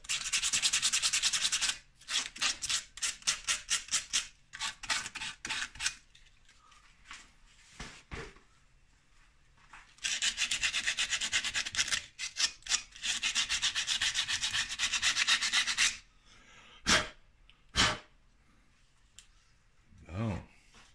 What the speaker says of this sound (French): Enlever un petit peu de calcaire. Faire une belle surface propre.